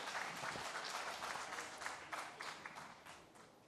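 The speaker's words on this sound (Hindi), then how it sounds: "एक बार जोरदार तालियों के साथ शिवपाल यादव जी का स्वागत कीजिए" Loud, dense applause welcoming politician Shivpal Yadav at an Uttar Pradesh election event, a steady wash of many clapping hands that fills the whole stretch and eases slightly toward the end.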